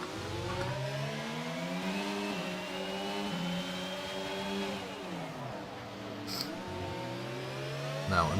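F1 race car engines in F1 22 at the Azerbaijan Baku street circuit, a loud whining drone with pitch sweeping up and down through gear shifts as cars pass, steady throughout without talk.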